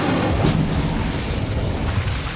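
An Incendio fire spell in Hogwarts Legacy bursts out as a loud, close whoosh-boom of flame that fills the moment and rumbles on without pause.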